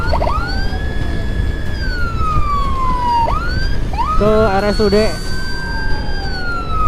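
An ambulance siren wails in long rising and falling sweeps, loud and near over road rumble, with a brief burst of a second siren tone midway; a voice speaks briefly over it as the ambulance is escorted to hospital.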